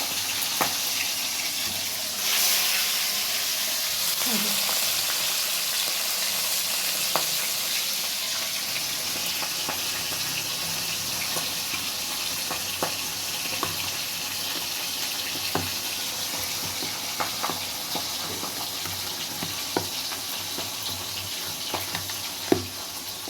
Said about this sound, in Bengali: এই যে মাছগুলোকে ভালো করে ভেজে নিয়ে